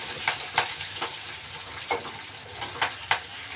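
Curry leaves crackle and spit in hot oil, a steady frying hiss punctuated by sharp pops roughly every half second, close-up with no voices.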